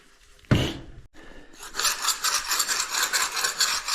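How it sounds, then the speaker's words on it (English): A basement floor is scraped to lift loose dirt chunks. A sharp knock comes first, then a run of close, rhythmic rasping strokes across the concrete. "right now we're doing the scraping. Getting all these little chunks up that are just kind of sitting on, that need scraped away"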